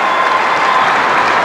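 A packed arena crowd at a 1994 netball super league semi final applauds loudly and steadily, a dense wash of clapping with no break.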